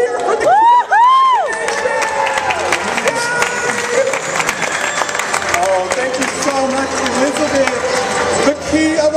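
A large crowd at a Disney Store grand opening ceremony cheers and shouts loudly and continuously, with children's high voices rising through the din and a voice calling out near the start.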